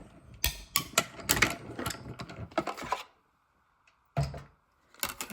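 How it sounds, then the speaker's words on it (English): A small mini die-cut and emboss machine cranks an embossing plate through, a run of close, uneven mechanical clicks and ratcheting for about three seconds, then a pause and a couple of short grinding bursts. "we will pass this through this little mini cut and emboss machine here"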